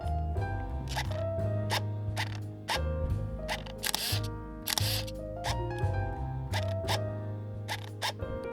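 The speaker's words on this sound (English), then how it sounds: "Yeah, the autofocus is kind of loud." Autofocus motor of a rangefinder camera driving the lens, giving repeated brief whirring and clicking bursts over a steady, busy background of sustained tones, fairly quiet overall.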